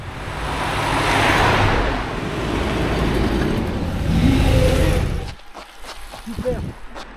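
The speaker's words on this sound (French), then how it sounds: "Charles Gély qui nous double la moto." Motor vehicle engine noise, likely a motorcycle overtaking riders during an amateur cycling race near the Mont d'Or, loud and steady with wind for about five seconds, then dropping away abruptly.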